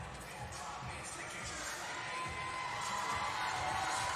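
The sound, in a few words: crowd cheering to urge athlete Laura Horvath on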